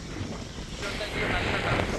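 Cold wind blows on a beach in Jordan, buffeting the microphone with a steady, loud broadband rush that swells over two seconds.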